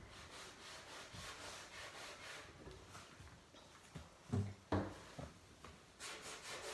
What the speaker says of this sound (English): I'm just going around in the corners, just a little bit in the corners, just rubbing down, and all I'm doing is rubbing down to the grey.